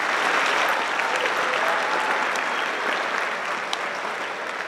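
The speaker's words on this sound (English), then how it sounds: "Give them one more round of applause, please." An audience claps steadily after a piece at a high school spring band concert, a dense, sustained round of applause filling the hall from start to finish.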